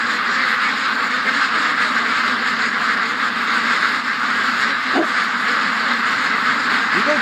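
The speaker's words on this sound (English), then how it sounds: "Come here, duck. Duck. Come here. Come on, ducks." Ducks quack outdoors amid a steady broadband wash of ambient noise, a few brief calls standing out faintly over the constant background.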